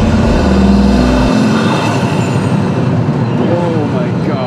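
A car engine revs up close, a steady low drone with a rising rev in the first second, then a rougher running tone, while people talk excitedly over it.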